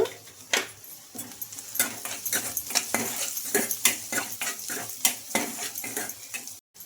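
Onions and potatoes fry and sizzle in a pan while a utensil repeatedly scrapes and clinks against the metal in an irregular stirring rhythm, close and fairly quiet, with no talk.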